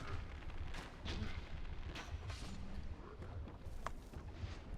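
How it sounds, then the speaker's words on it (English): Sniper rifle shots ring out across a gap in Dark Souls 2, a few sharp gunfire-like bangs over a steady rumbling game backdrop, no voices. "And now we are going to snipe these guys from across the gap."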